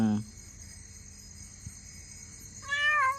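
A cat giving birth to kittens meows twice, a short cry at the start and a longer wavering one at the end, separated by near-quiet with faint insect chirping.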